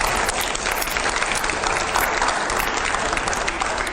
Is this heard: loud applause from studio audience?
yes